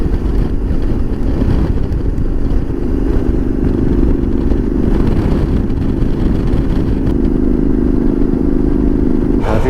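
Motorcycle riding along a road near wind turbines about 70 km from Montevideo, Uruguay, approaching a toll booth; a steady, loud engine drone and wind rumble run throughout with no talk.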